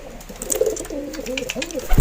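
A racing pigeon at a national ring-race event coos close by in a short series of rolling, throaty calls over a steady background hum.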